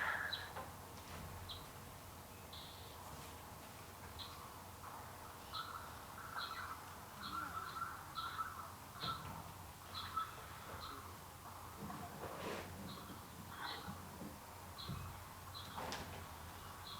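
Repeated short chirps and calls from forest birds in the Kafa hill forest, spaced irregularly across a steady low ambient hum, moderately distant and fairly faint.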